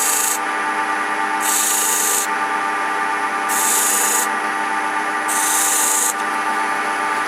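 Repeated scraping strokes of a repurposed old woodworking gouge, used as a scraper across wood and into end grain, come as four bright rasping bursts in a steady rhythm over a constant hum, up close and with no talk.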